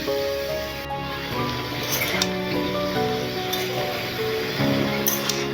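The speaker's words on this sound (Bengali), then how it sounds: "সবজিগুলোকে নাড়াচাড়া করে নেব" Mixed vegetables for khichuri stirred and fried in a pan, a moderate sizzle with clinks and scrapes of a utensil against the pan, over a tonal hum in the background.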